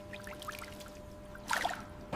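Water carrying oyster larvae pours into hatchery tanks in a short splashing gush near the end, following a quiet stretch of low machinery hum.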